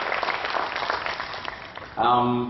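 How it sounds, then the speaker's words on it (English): An audience at an entrepreneurs' event claps for a volunteer who has come up on stage, a dense, moderately loud spread of hands that fades before a voice and a tonal sound take over. "let's give her a good round of applause for coming up"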